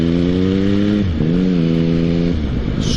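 A motorcycle pulls away from a stop line at a junction, its engine note rising through the gears with a brief dip at a gear change, loud and close.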